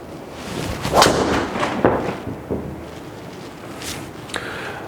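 A golf driver strikes a ball during an indoor simulator lesson, giving one sharp crack followed by a few fainter knocks and thumps in a quiet room.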